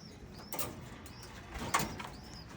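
Racing pigeons in a loft give soft, low cooing, with a few brief wing flutters and faint chirps mixed in, heard fairly close with no speech.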